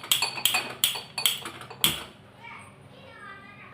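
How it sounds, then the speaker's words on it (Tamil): A metal kadai set down on a stove, a few sharp clanks of metal knocking in quick succession, then quieter background sounds as it settles. "இப்போ இப்போ கடாய் அடுப்பில் வச்சுக்கிட்டேன்."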